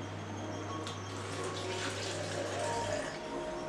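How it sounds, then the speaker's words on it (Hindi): A little water poured into whey protein powder, a steady splashing trickle running for a few seconds over a low constant hum. "अब मैं इसमें थोड़ा पानी डालूंगा।"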